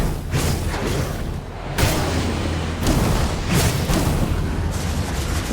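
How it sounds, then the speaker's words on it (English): Dense, loud rumbling with repeated deep booms layered over a constant roar, heavy cannon fire in the game Torchlight Infinite. "The cannon fire came from deep within the mountains ahead."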